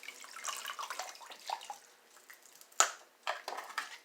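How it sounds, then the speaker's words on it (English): Tap water runs over a frozen tea slug in a kitchen, a soft, uneven splashing and trickling with a sharp knock partway through, fairly quiet and close. "run under a little bit of water."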